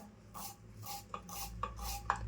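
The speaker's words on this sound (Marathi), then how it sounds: "आता कांदा कापायला घेते आपल्याला कांदा ना मस्त असं बारीक बारीक कापून घ्यायचा" A knife finely chops onion on a board in a home kitchen. About five soft, scraping strokes fall in an uneven rhythm, close and quiet, with no voices.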